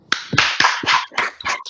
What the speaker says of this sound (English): let's give these graduates a great big round of applause